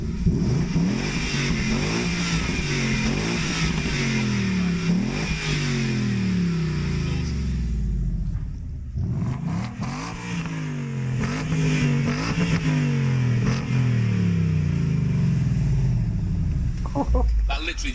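A car in racetrack mode revs repeatedly, its engine pitch climbing and falling in several rising sweeps with a brief lull midway, loud and close, with voices chattering over it.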